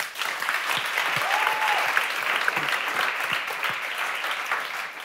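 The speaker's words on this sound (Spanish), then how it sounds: "un aplauso" Studio audience applause on a Spanish talk show, steady dense clapping filling the whole stretch at fairly close range, with a faint voice briefly underneath.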